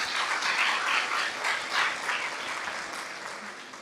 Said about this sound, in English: And stand up, please applaud them.